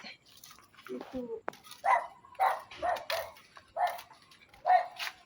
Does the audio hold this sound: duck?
no